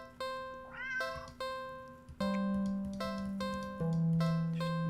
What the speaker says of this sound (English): at the end of the alley in a big cardboard box is a cat.